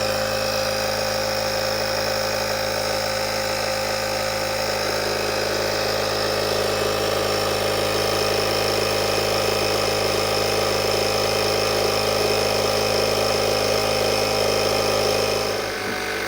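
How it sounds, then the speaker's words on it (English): An AutoOne portable air compressor inflating a car tire runs with a loud, steady mechanical drone and buzzing whine, unbroken for the whole stretch, then shuts off abruptly at the end. "push the power button and it'll start filling the tires"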